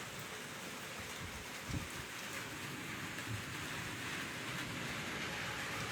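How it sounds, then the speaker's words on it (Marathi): Summer rain falling steadily over a village, a dense even hiss of rain on surfaces with a faint low rumble of thunder, distant and uninterrupted by voices. "गावचा पाऊस दाखवत आहे उन्हाळ्यात"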